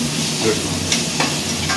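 Poha being stirred in a tempering pan, with a steady sizzle and frying crackle close by and the occasional scrape of a spoon against the pan.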